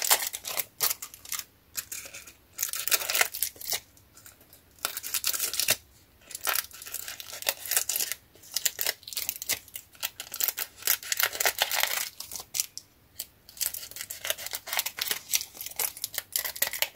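Scissors snip through paper for a scrapbook embellishment in quick, close bursts of crisp cutting, with short pauses and faint paper rustling between strokes.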